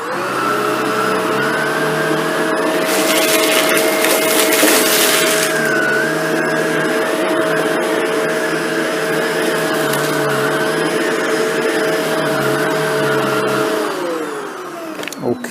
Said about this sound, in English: We'll start with the NV752. Both machines are in low pile carpet mode.